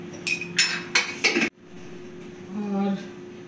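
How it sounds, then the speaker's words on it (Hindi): A spoon clinks and scrapes around a bowl as yogurt is mixed into flour dough for bhatura, several quick metallic knocks up close, followed by a brief pause and a soft voice speaking. "और ये इसमें दही मिक्स कर रहे हैं।"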